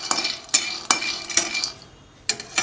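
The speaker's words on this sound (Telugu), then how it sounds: "ముందుగా వేరుశనగ పప్పు డ్రై రోస్ట్ చేసి పక్కన పెట్టుకోవాలి" Peanuts dry roasting in a pan while being stirred, giving a close, steady rattle and scrape broken by sharp clinks from a metal spoon at irregular intervals.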